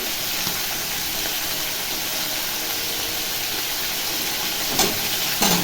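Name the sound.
spices sizzling while frying in a tempering pan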